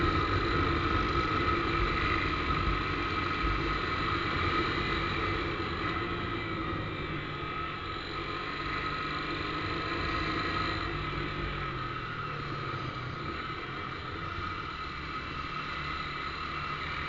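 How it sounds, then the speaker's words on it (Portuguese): A motorcycle idles steadily with a loud, raspy new exhaust, the engine note continuous and close throughout with no talking. "Mostrar o escapamento pros manos que tá fazendo barulho"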